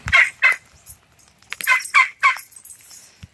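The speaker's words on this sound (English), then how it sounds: "These turkeys just crack me up." Farm turkeys gobble loudly and close by in several separate bursts, a pair of calls then a quick run of three, with quiet gaps between them.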